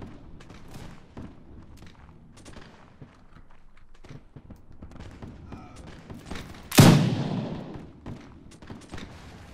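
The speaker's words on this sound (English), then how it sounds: "That's the other problem. There's cannons." A single heavy cannon shot booms near the end, sharp and loud with a long decaying rumble, following scattered musket pops and battlefield noise in the Napoleonic-era Mount & Blade mod L'aigle.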